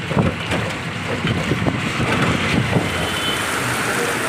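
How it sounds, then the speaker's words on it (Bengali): Heavy rain pours down in a dense, steady roar of drops hitting surfaces, loud and close, with no voices. "এত জোরে দেখো বৃষ্টি পড়ছে"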